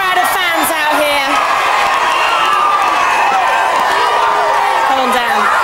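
A large crowd of fans cheers and whoops loudly and continuously, with whistles and shouts rising through a steady roar and voices talking over it.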